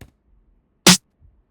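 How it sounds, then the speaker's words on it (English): A single sharp snare hit, punchy and bright with a brief noisy decay, standing alone in silence. "I layered it with this trappage snare."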